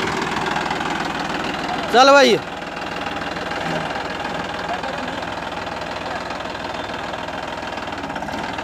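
A Massey Ferguson 9500 Smart tractor engine runs in first gear, a steady close diesel drone with an even knocking rhythm throughout, briefly overlaid by a short spoken phrase from a man.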